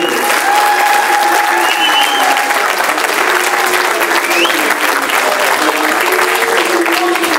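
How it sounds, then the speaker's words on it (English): Thunderous audience applause greets Attorney Mawuli Mel Davis at a speaking event, a loud sustained roar of clapping with some cheering voices mixed in, steady from start to finish. "Let's give a big thunderous applause for Attorney Mawuli Mel Davis"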